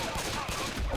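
Rapid gunshots in the co-op zombie shooter Left 4 Dead 2, set in a shopping mall, forming a continuous loud burst of fire amid game noise.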